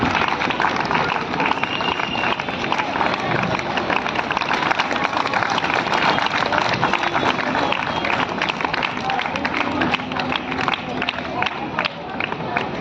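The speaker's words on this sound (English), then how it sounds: "please give a big round of applause" Children clapping at a school health awareness and screening camp, a dense, sustained crowd applause lasting throughout, fairly loud and close, with murmured voices mixed in.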